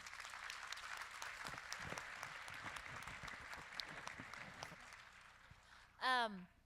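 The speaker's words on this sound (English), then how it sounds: "if we could give her, Lorraine, another round of applause" Applause from a forum audience for a woman named Lorraine who shared her story, steady clapping across the room and moderately loud throughout, with a brief chirping squeal near the end.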